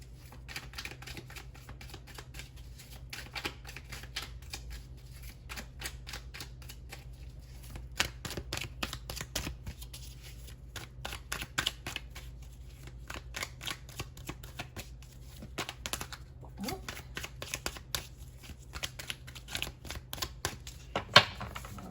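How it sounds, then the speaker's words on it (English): Tarot cards are shuffled by hand in irregular bursts of soft riffling and tapping, quiet and close, with no talk. "So I'm going to pull some tarot cards just to see if there's any additional information that's coming through here."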